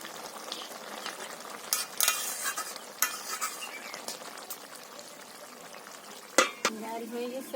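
Lentils are stirred and sautéed in a pan, with a steady close sizzle and several sharp scrapes and clatters of the spoon against the pan, the two loudest near the end.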